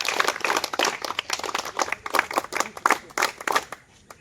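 Group applause for a student at outdoor police recruitment training, a burst of quick, fairly close clapping from several people, dense at first and thinning toward the end.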